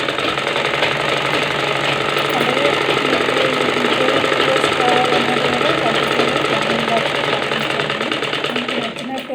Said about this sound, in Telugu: చూడండి, ఇప్పుడు స్టిచ్చింగ్ చేస్తున్నాను.